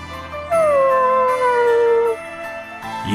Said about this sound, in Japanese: 犬